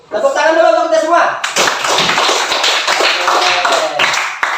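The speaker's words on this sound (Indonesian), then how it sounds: "Tepuk tangan dulu untuk kita semua" A classroom of students breaks into applause for everyone after a voice briefly speaks, the clapping starting abruptly and continuing as a lively, close, uneven patter with some talk underneath.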